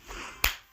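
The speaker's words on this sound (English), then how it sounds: "Clap." A single sharp hand clap, brief and close, coming after a soft rustle.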